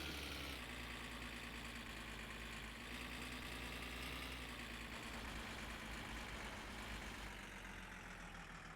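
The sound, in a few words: car engine idling in a video game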